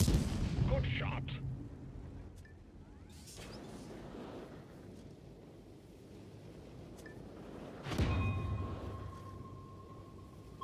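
A tank gun fires in World of Tanks with a sharp blast at the start. A second heavy boom comes near eight seconds, followed by a lingering rumble and a faint tone.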